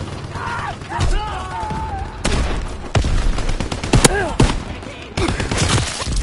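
Loud, busy video game battle with rapid gunfire bursts and booms crowding the mix, while shouted voices and electronic tones sit underneath.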